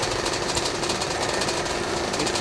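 A Kawasaki KDX motorcycle engine at a hill climb event, a loud, steady, buzzing two-stroke drone held without a break, no talk.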